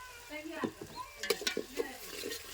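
Turmeric powder and spices frying in oil in a pan for mutton keema, with a low sizzle broken by quick clinking stirs of a metal spoon against the pan, close and fairly quiet.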